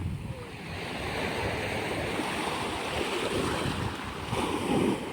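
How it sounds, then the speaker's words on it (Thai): Ocean waves surging onto a sandy beach on a seaside trip, a continuous broad roar of surf mixed with wind that swells louder toward the end. "คลื่นมันยัดมันซัดเข้าฝั่งอย่างเดียวเลย"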